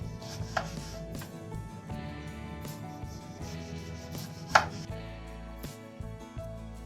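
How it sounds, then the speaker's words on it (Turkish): A knife slices a lemon into thin rounds, tapping steadily against a cutting board in a series of quick, even cuts, close up, with no voices. "Şimdi ince ince dilimler halinde kesiyoruz."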